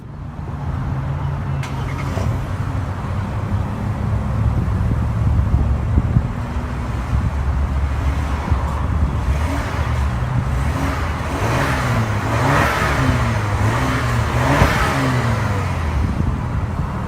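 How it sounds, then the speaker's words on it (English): A 2017 Jaguar F-Pace engine starts and revs, a steady low drone rising in pitch through repeated throttle blips and falling back, with wind noise underneath and no speech. "To start the engine, simply push your foot down the brake and press the start button located right here."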